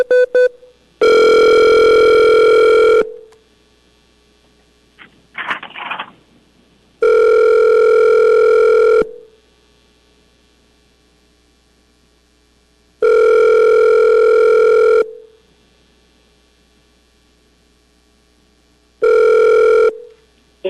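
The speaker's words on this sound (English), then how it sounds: "We'll take the next caller." An outgoing telephone call from a public hearing of a platting board rings loud and clear: four long, evenly spaced ring tones, roughly two seconds each, with a short burst of dialing tones after the first ring.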